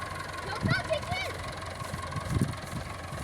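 A tractor engine idles with a steady low chug throughout, while voices speak over it, giving short instructions.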